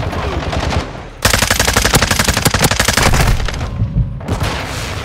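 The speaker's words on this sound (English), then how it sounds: "Taking effective fire!" Automatic rifle fire in Call of Duty: Modern Warfare 2 team deathmatch: a dense, loud stream of rapid shots dominates most of the clip, with a short gap before a final burst.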